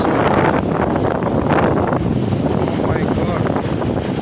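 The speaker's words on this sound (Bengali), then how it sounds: "যেমন বাতাসের তীব্রতা, যেমন নদীর ঢেউ, সাগরের ঢেউ।" Strong wind buffets the microphone at the Dakatiya river mouth, its loud, constant rush mixed with the wash of river waves and no clear speech.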